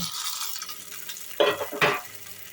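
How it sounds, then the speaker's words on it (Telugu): A spoon mixes fried tempering into yogurt rice in a bowl, with soft wet stirring and two sharper scraping strokes near the end, close and fairly quiet. "ఇవన్నీ వేగిన తర్వాత అన్నంలో వేసి కలుపుకుందాం"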